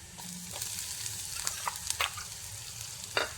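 Crushed shallots, about six or seven small onions, sizzle steadily in hot oil in a frying pan for a tamarind-chili fish dish. A few sharp spoon scrapes and clicks from stirring break through the constant close frying hiss.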